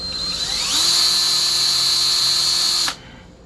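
A small 1/8 inch drill bit bores into a ported Mopar 340 Thermoquad intake manifold: one steady, high-pitched drill whine that rises in speed, holds for about two seconds, then cuts off sharply.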